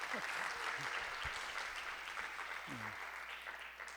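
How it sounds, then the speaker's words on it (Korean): An audience at a tea sommelier competition claps in a steady wash of applause, moderately quiet and somewhat distant, with a brief voice or murmur briefly heard underneath. "박수 좀 쳐주시기 바랍니다."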